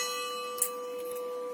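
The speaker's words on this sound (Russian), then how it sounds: "колокола зазвонили." Bells ring faintly in the distance, a sustained metallic tone hanging steadily with a brief brighter strike near the start, quiet and alone without speech.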